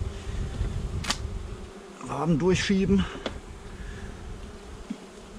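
Honey bees buzz inside a hive during the first colony inspection of the season in March, a steady close hum running beneath German speech.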